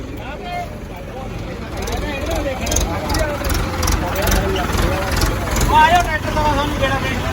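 John Deere and Arjun 4x4 tractors strain in a tug of war, with a low engine rumble running under several people talking loudly over it.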